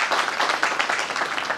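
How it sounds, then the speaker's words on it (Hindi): A crowd applauds to welcome a member of parliament at a public event in Neemuch, with dense, steady clapping that stays loud and continuous throughout and has no speech over it. "हम जोरदार हमारे सांसद का ताली बजा के स्वागत करें"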